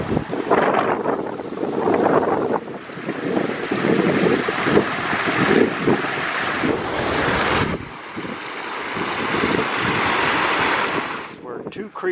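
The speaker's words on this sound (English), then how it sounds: "Two creeks come together right here at this giant sized pool." Two creeks pouring together into a large pool, giving a constant rushing wash of water, heavily buffeted by wind noise on the microphone that comes and goes in gusts.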